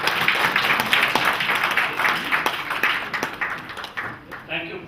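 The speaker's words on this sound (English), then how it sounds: "I would request you to adopt it with a clap of hands" A crowd applauds, many hands clapping in a dense patter that gradually thins out toward the end.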